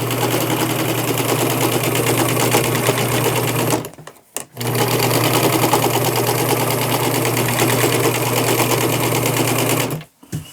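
A sewing machine stitches a T-shirt, its needle running in a loud, fast, steady hum that stops briefly near the four-second mark and again near the end.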